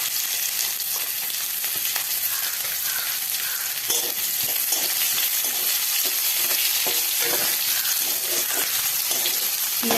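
Onion frying in a pan with cumin seeds and bay leaf, a steady loud sizzle with occasional stirring scrapes throughout, no talking.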